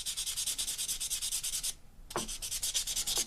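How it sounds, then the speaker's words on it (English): Rhythmic scrubbing of 600-grit emery cloth across the back of a pink opal cabochon, steady quick strokes that pause briefly midway and then resume, close and alone. "I'm going to take little 600 emery cloth"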